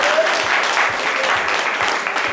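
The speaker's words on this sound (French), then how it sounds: "on peut l'applaudir très très fort." A crowd at a live show gives a dense, sustained round of applause throughout, a steady wash of clapping with faint voices underneath.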